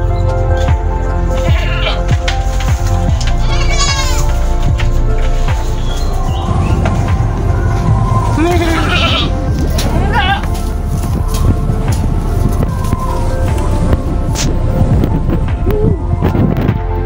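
Goats bleat in a pen with two newborn kids, several drawn-out calls rising over a constant loud rushing background.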